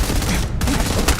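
Rapid gunfire in Starfield, a dense, loud burst of overlapping shots with a short gap partway through, with no speech.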